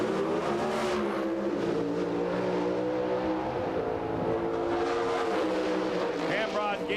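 Pro stock drag racing cars roar at an NHRA event, the 1997 Autolite Nationals, with a sustained engine drone rising and shifting in pitch over several seconds while crowd and announcer noise mix underneath.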